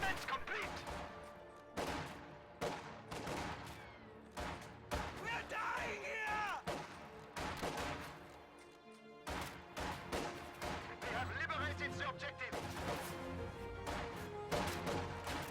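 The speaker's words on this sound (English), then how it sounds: "Sniper firing on combat engineers across this area." Sniper rifle fire aimed at combat engineers in a strategy video game, with sharp shots and crashes punctuating a dense, busy battle mix while a commentator talks throughout.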